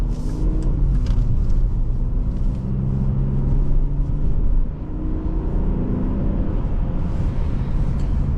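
2011 Volvo XC60 T6 AWD driving and accelerating from inside the cabin, a steady low engine and road rumble with rising engine tones that build, dip briefly, then climb again.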